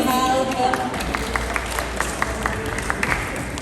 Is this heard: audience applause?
yes